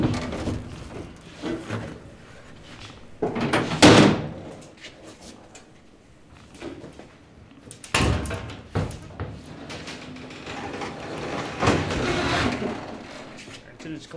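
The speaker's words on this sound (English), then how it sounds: "So this is how you collapse the unit." Metal frame of the P-Pod unit collapsed for transport by undoing one bar, with bangs and clatters of metal parts at intervals, loudest near the start and middle, and a voice talking between the knocks.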